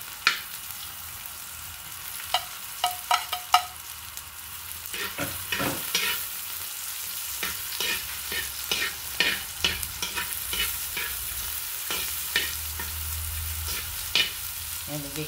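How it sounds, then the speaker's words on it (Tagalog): Boiled bamboo shoots being sautéed in oil sizzle loudly up close, broken by repeated sharp clacks and scrapes of a spatula stirring in an uneven rhythm that grows busier, with no talking. "Ayan, igigisa na natin ang labong."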